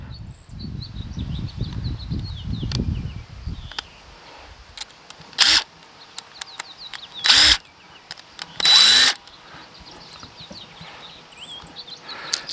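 Three short bursts of a cordless power drill backing screws out of the front of a boat trolling motor plug, each lasting under a second and spaced a couple of seconds apart, heard close over a quiet background with faint birdsong.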